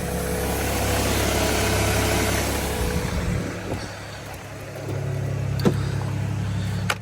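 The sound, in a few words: Nissan Patrol GU engine idling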